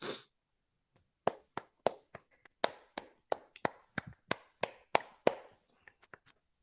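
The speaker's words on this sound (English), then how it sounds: "we had to hit it with the golf clap." Slow, sparse hand claps, about fifteen distinct smacks spaced unevenly, close and fairly quiet, like a polite golf clap.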